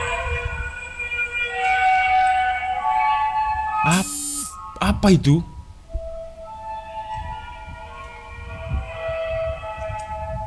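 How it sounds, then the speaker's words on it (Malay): Mysterious trumpet-like sound from the sky recorded in Sabah: two loud, sweeping, horn-like blasts rise and fall over a background of music and voices, and a voice asks a question in Malay. "dapat bunyi seakan-akan trompet dari langit"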